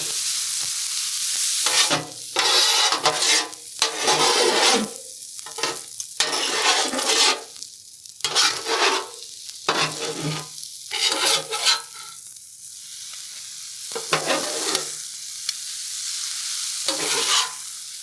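Chicken fried rice being stir-fried on a Blackstone griddle, seasoned with soy sauce and chili sauce: loud, close bursts of sizzling and scraping spatula strokes come in irregular rhythmic waves, with brief quieter gaps between them.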